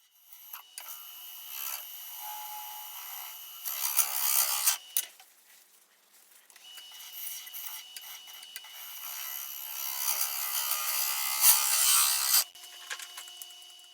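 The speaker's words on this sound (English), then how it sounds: "I'm using a regular round carbide scraper here." A round carbide scraper cuts an oak burl and resin bowl spinning on a lathe. Loud bursts of scraping and rubbing come in long passes, with a brief quiet break between them.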